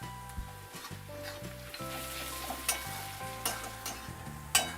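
Onion, crushed garlic and ginger with turmeric fry in a pan, a soft steady sizzle under background music, broken by a few sharper stirring scrapes and clinks.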